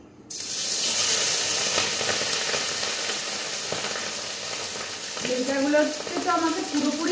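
Hilsa fish tails fry in hot oil in a wok, a loud continuous sizzle and crackle close up, with a voice speaking over it toward the end.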